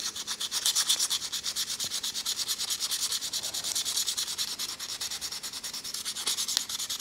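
Steady, rhythmic sandpaper strokes on a penholder table tennis paddle handle rasp back and forth close up, an even scratchy rubbing repeated many times with no voices.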